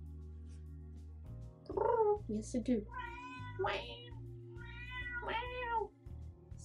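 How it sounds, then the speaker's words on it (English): A noisy house cat meows repeatedly nearby in a workshop where a doll is being made, several drawn-out, rising calls spread across the clip, with a person speaking briefly between them. "Sorry, I have a very noisy cat."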